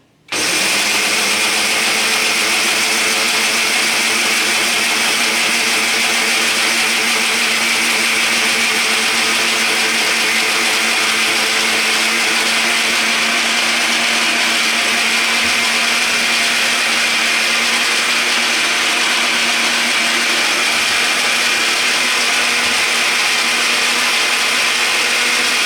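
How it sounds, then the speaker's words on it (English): Countertop blender running continuously with washing powder inside, a loud steady motor whine and buzzing with a constant tone that starts abruptly and holds for about 25 seconds with no talking. "a blender just to have a blender to be putting washing powder in"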